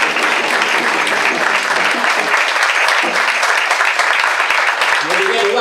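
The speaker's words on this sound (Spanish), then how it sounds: "Fuerte aplauso" Loud, dense applause from a large political rally crowd fills the whole stretch without a break, a steady roar of many hands clapping close by.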